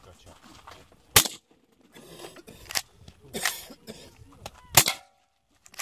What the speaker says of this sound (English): You hit a can, Ethan.